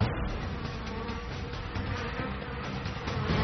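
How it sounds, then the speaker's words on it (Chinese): Worker honeybees buzz as they return to the hive, making a dense, continuous, even drone of many wings close by. "外出采粉的工蜂开始归巢"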